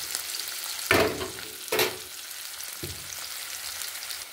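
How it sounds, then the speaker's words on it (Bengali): Onions frying in oil in a pan for a spicy bhola fish curry, a steady sizzle broken by two loud stirring bursts and a softer third scrape, no speech. "পেঁয়াজটা ভাজা হয়ে গেছে"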